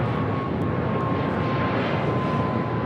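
A United airliner at LAX spools up and roars as it departs on runway 25 right, a broad, loud, steady jet engine roar heard from nearby.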